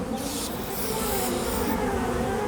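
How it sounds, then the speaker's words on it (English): Aerosol insecticide cans hiss in long continuous bursts as they are sprayed onto a wasp nest, a broad airy spray sound that surges and eases over a couple of seconds, close and fairly loud. "using aerosol insecticides to kill the wasps guarding the nest"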